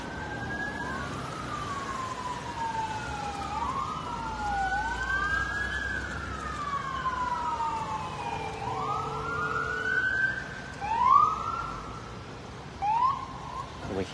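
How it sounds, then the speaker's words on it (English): Several police sirens wail and yelp in overlapping sweeps at a police standoff on Pontiac Avenue, Cranston, Rhode Island, some distant and some closer, over a steady background rumble of traffic. "Hear a lot of sirens in the background."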